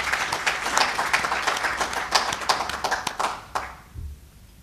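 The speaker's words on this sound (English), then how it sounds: "join me by clapping hands for the team that" An audience at an economic summit applauds an organizing team, a hall full of hands clapping in a dense, steady patter that swells with a few louder claps, then tapers off and dies away near the end.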